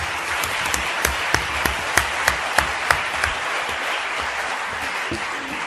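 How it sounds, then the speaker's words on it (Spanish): Strong applause from an audience at an association event, a dense, steady wash of clapping with a few sharper claps standing out, lasting throughout without speech. "us torno a demanar i ja per últim un altre fort aplaudiment"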